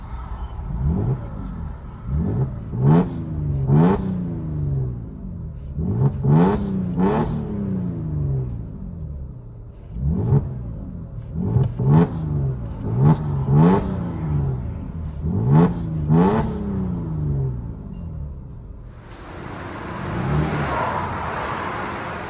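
A 2010 Mercedes C300 with its resonators deleted revs repeatedly from inside the cabin, about eight sharp rising and falling blips in bursts, loud and close, with no talking.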